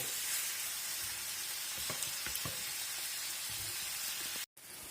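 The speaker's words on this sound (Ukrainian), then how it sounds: "Воно буде е, смажитись то м'ясо" Beef sizzles steadily in a hot pan for goulash, a continuous frying hiss with a few brief crackles, close and fairly loud, cut by a short silent gap near the end; no talking.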